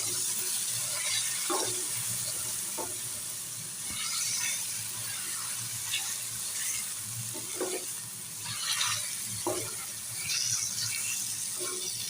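Tomatoes sizzle and fry in hot ghee in a pan while making chicken with shimla mirch, with steady crackling under intermittent scraping stirs, close and moderately loud, no talking.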